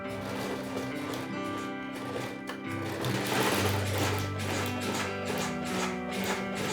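A sewing machine stitches quilted bag pieces together, its fast, even needle chatter running steadily and fairly quietly close by, with a brief pause partway through.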